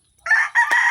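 A rooster gives one short, close crow, loud and sharp and lasting under a second, after a brief silence.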